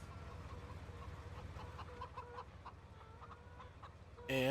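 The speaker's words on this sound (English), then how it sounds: "Got our chickens over here." Chickens clucking softly in a farm scene in the Farming Simulator 17 video game, scattered short clucks over a low steady hum, with a louder sudden sound at the very end.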